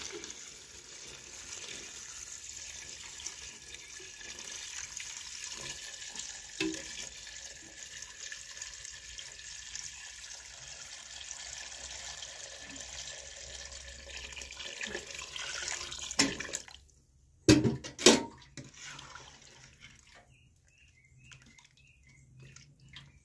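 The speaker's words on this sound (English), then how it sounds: "At this point, I put water." Water pours steadily into a cooking pot in an African village kitchen, with salt already added for a traditional dinner. A continuous rushing pour runs for about seventeen seconds, then a few sharp knocks and a quieter stretch follow.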